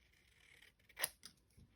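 Scissors cutting across paper in a journal-making session: one short crisp snip with a smaller follow-up cut, close and quiet, no talking.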